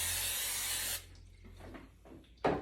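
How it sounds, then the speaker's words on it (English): A single long, close hiss of non-stick cooking spray onto a sheet pan lasts about a second, then stops, followed by faint clicks and a short final spray burst. "spray it really generously with some no-stick cooking spray"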